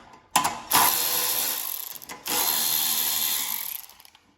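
A socket wrench with a 10mm socket unscrews nuts on a Troy-Bilt snow blower, model 31AM6CP3, in two sustained bursts of rapid, buzzing ratchet noise, close and fairly loud.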